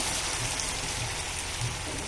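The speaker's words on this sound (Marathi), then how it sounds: "या कपाने आपण 2 कप गरम पाणी घालणार आहोत" Hot water poured from a cup into sautéed rice in a cooking pot for coconut rice, a continuous close splashing rush without a break, loud and steady and not under any speech.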